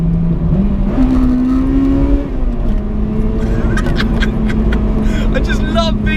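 A Honda Integra DC5 Type R engine revs hard in VTEC, a loud, close, climbing engine note that holds high and steady, heard from inside the car while a person talks over it.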